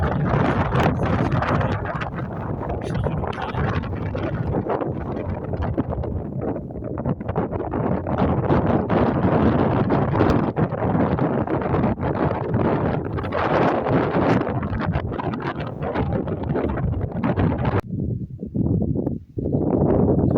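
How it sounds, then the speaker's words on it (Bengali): Strong wind roars across a mountain top in Oman, a steady loud buffeting rush against the microphone that fills the whole stretch, dipping briefly near the end. "অনেক বাতাস"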